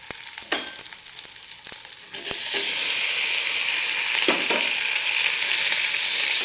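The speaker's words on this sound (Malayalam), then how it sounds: "തക്കാളി ഇട്ട് ഒന്ന് വഴറ്റണം" Tomatoes hit hot oil with green chili and curry leaves, a few utensil taps and scrapes first, then a loud, steady, close sizzle that fills the rest of the clip.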